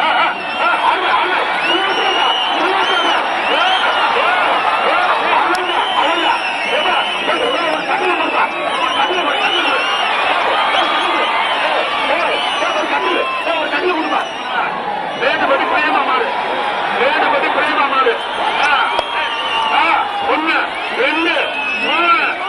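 Spectators packed around a Manju Virattu bull-taming event at a temple festival in Siravayal raise a dense, continuous roar of chatter and shouts, steady and loud throughout.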